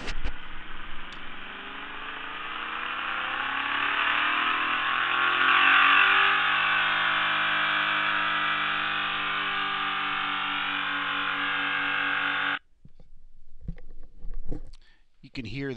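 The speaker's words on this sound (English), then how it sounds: "It's an engine run-up, and the speed of the engine is changing over the operation." Engine run-up with continuously changing engine speed, a steady broadband roar with sweeping harmonics that holds for about twelve seconds before cutting off abruptly, followed by faint clicks and handling noise.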